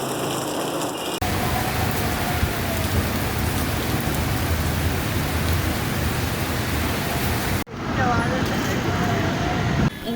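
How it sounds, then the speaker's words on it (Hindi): Heavy stormy rain pours down in Karachi amid strong winds, a dense roaring wash of rain on surfaces that stays loud and steady, with brief cuts between shots and faint traffic noise underneath. "इंतहाई शदीद तेज़ और तूफ़ानी बारिश हुई है, तेज़ हवाओं के साथ।"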